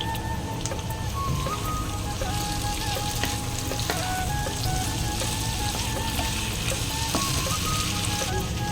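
Onions and potatoes fry in a pan, a constant bubbling sizzle close up with occasional stirring clinks and a faint tonal hum beneath.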